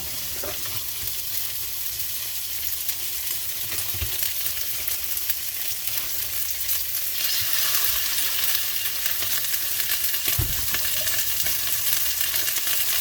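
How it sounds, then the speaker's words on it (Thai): Steady, continuous sizzling of steak frying in hot oil in a pan, close and fairly loud, with a couple of brief clanks of a utensil. "ใส่น้ำมันประกอบลงไปแบบนี้ ใส่หน่อย ใส่หลายก็ได้ แล้วก็เอาเนื้อลงไป"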